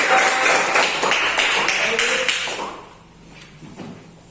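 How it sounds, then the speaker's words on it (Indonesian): A classroom of pupils claps for a group, sharp, fairly regular hand claps for about two and a half seconds before fading into quieter room noise and voices. "tepuk tangan buat kelompok"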